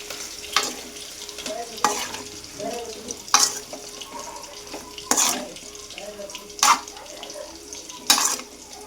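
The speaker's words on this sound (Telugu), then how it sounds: "ఇది కూడా మంచిగా మిక్స్ చేసుకోవాలి." A spoon stirs salt into a cooking mixture in a pot, giving regular scraping strokes about every second and a half over a soft background hiss.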